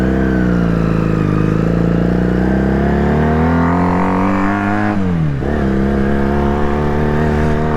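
Honda Superdream motorcycle engine revving loudly while being ridden, a steady mid-pitched drone that rises through the revs, dips briefly near the end, then picks back up, close and continuous throughout.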